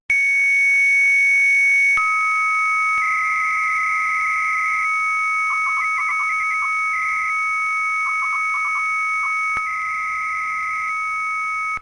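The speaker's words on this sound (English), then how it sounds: "the computer would connect those as the modem sounds" A dial-up modem connects through an acoustic coupler clamped to a telephone handset, giving a steady loud tone that shifts pitch, with bursts of chirping beeps and warbles for about twelve seconds.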